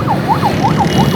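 Wailing fire brigade siren near a burning Suzuki at a roadside in Karachi, rising and falling in quick regular sweeps over steady traffic rumble, loud and fairly close.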